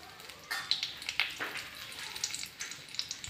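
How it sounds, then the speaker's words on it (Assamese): Bay leaves and a single dried red chilli stirred in hot oil for a vegetarian dish give a soft, steady sizzle with light crackles and spoon scrapes, fairly quiet and close, with no talking. "এইখিনি তেজপাত দি ভালদৰে লৰাই ল'লোঁ।"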